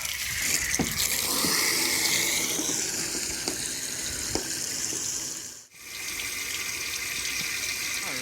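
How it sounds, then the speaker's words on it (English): Water from a hose running and draining off a 1992 Volvo 240 sedan, a steady close splashing gush with a few small knocks and a brief dip near the end. "I'm gonna let some water run down here for a few minutes"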